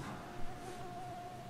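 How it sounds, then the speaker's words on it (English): A thin, steady insect whine hums continuously, faint and close, with a soft low background rumble and one brief bump partway through. "Mosquitoes around me."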